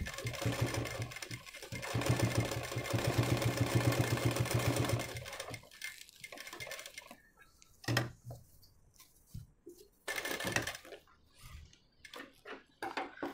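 A sewing machine stitches around the corner of a blouse, running in a steady loud whir for several seconds, then stopping and restarting in short bursts with pauses as the fabric is turned.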